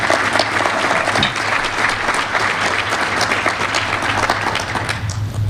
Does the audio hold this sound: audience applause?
yes